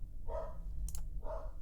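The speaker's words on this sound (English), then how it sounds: "he's barking at the FedEx truck out front." A dog indoors barks at a FedEx delivery truck parked out front, giving two separate, somewhat muffled barks about a second apart over a quiet background.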